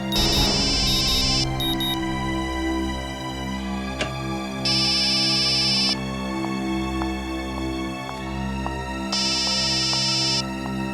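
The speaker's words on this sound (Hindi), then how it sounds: "संध्या फोन नहीं उठा रही है सर" A phone ringtone plays in repeated bursts, a bright electronic melody over a background musical drone, loud and close.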